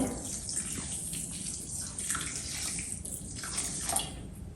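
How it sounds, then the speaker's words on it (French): Cold water pours steadily onto couscous semolina in a bowl, a continuous close splashing rush with slight gurgles and swells, no talking. "Là, je vais ajouter de l'eau froide."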